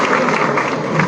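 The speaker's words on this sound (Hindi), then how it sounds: "तालियों की गड़गड़ाहट कम हो गई एक्चुअली" An audience claps steadily at a university award ceremony for sports trophy winners, a brief dense wash of applause at close range.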